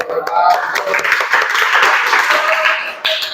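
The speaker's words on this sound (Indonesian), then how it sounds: "Tepuk tangan dulu." Group applause in a classroom as a student group finishes presenting: a dense, steady wash of clapping hands fills the room for about three seconds, with voices talking over it and a brief dip near the end.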